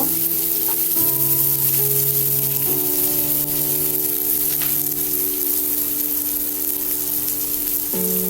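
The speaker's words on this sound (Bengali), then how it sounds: "পেঁয়াজটাকে একটু লাল লাল করে ভেজে নিব।" Onion frying in oil in a pan, a loud continuous close-up sizzle and crackle that holds steady throughout, with a background tonal hum.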